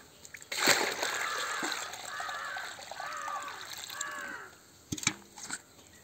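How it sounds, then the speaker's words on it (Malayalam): Water splashes and gurgles as it is poured into a mixture of cow urine and fresh cow dung, a close, sloshing pour lasting a few seconds, then brief knocks and thuds. No voices are heard. "ഇതിന് നല്ല രീതിയിൽ നിറയെ വെള്ളം ഒഴിക്കാം."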